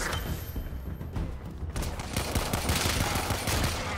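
Pistol gunfire in the video game Warframe, a steady run of rapid shots and thuds over the whole stretch, growing denser and louder in the second half.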